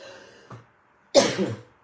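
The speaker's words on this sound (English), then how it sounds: "Oh, sorry, I need to cough." A single harsh cough, close and loud, following a brief faint breath in an otherwise quiet room.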